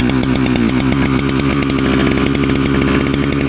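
A small engine, just fixed with a new spark plug, runs loud and close with a fast, even chugging rhythm, like a chainsaw or farm motor out in a field.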